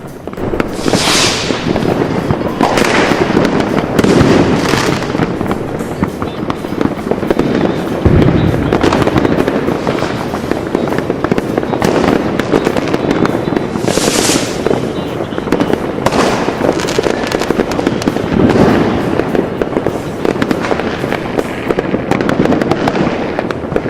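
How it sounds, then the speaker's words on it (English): The Thunder over Louisville fireworks display in Louisville booms and crackles nonstop, dense overlapping bursts and hissing trails at close range, loud throughout with a few sharper cracks standing out. "Weekend of Thunder over Louisville is an awesome fireworks display."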